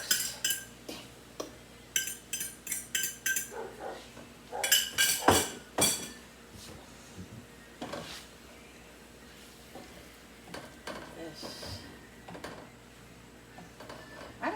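A utensil stirs an egg mixture in a bowl, giving quiet, irregular clinks and scrapes in short bursts with a few louder knocks and pauses between them. No one speaks.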